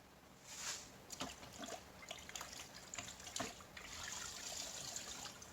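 A piston from a 360 Magnum engine dipped into a bucket of gasoline and ATF, its rings rotated to wash them, giving a steady close sloshing and trickling of liquid with a few sharper splashes and no talk.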